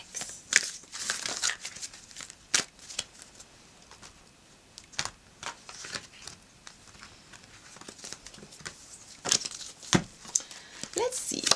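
Tarot card decks being shuffled, a run of crisp riffling and slapping card sounds in irregular bursts, close by and moderately loud, with a voice speaking between the shuffles.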